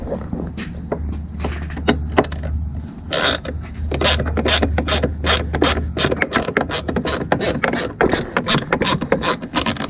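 Ratchet clicking repeatedly while loosening a screw on the timing cover of a 2014 Acadia 3.6L engine, with a steady run of close, sharp pawl clicks and a low hum underneath.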